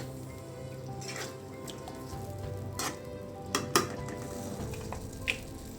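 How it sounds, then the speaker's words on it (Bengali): Fish pieces sautéed with masala in a pan give a steady low sizzle, with occasional scrapes and clinks of a utensil against the pan standing out at a few moments. "মাছটা আমি খুব ভালো করে এখন মশলার সাথে কষিয়ে নেব"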